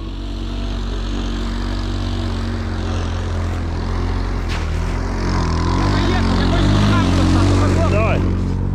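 A repaired snowmobile engine idling steadily nearby at about -15 degrees, a low droning hum that swells slightly toward the end, with people talking.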